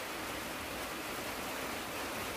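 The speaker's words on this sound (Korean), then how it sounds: "비가 오니까 향기랑 빗소리 들리니까" Rain falls outside as a steady, even, broadband hiss, soft and continuous throughout, with no other sounds or voices.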